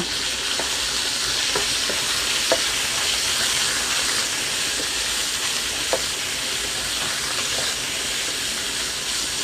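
Minced pork tossed into a pan of fragrant garlic and stir-fried for a Thai pork, broccoli and carrot dish: a continuous hissing sizzle with scattered light scrapes and clinks of stirring, close up, no voices.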